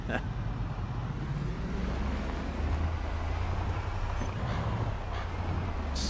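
A car reversing in the Project Zomboid video game, heard as a steady low engine hum that holds throughout, with muffled talk over it.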